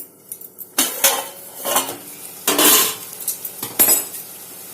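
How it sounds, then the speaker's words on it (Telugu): A lid set onto a pot of tomato and mango chicken gravy on a stove, heard as several sharp metallic clanks and rattles of cookware, close and loud with no talk. "స్టవ్ సిమ్లో పెట్టేసుకొని ఇవి మగ్గేంత వరకు మూత పెడదాం"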